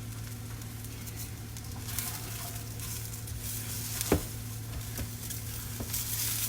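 Rice frying and being stirred in a hot pan for Spanish rice, giving a steady soft sizzle with a faint scrape or two, and no voices.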